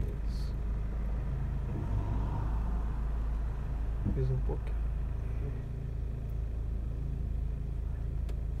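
A car engine hums in a low, steady rumble while the driver works the clutch and throttle during a driving lesson, with the revs rising slightly as people talk over it.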